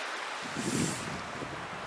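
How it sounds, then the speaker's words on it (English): Wind buffets the microphone with a low, rushing roar, steady and unbroken, with no voices, on a small sheltered beach in the Pacific Northwest in early December. "It's pretty windy."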